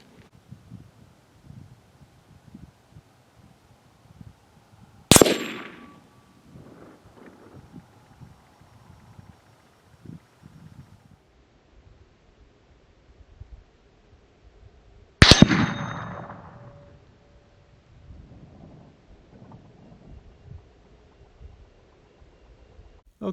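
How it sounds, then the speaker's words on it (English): A 22 Hornet rifle firing 45 grain soft point rounds at a steel spinner target 100 yards out: two sharp, loud shots about ten seconds apart, each with a ringing decay, over quiet outdoor background with light wind. "Getting ready to shoot the steel spinner target with a 22 Hornet 45 grain soft point."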